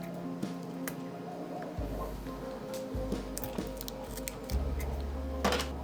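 Scissors snip repeatedly at close range during a workbench lamp build, sharp crisp cuts coming every second or so over a low steady hum, with no talking.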